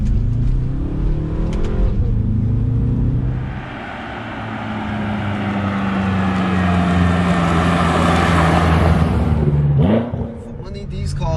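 A BMW F10 M5 engine revs hard while driving, rising in a long roaring pull after a downshift, then dropping off abruptly near the end, loud and close with a voice briefly over it.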